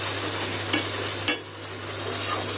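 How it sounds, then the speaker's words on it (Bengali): Vegetable peels fry in a pan with garlic and black cumin, a soft continuous sizzle broken by scraping stir strokes and a sharp utensil clink partway through. "নাড়তে নাড়তে জলটা অনেকটা টেনে গেছে"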